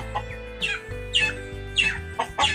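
45-day-old broiler chickens cluck and chirp nearby in a free-range farm setting, with repeated short calls rising over a steady low background hum.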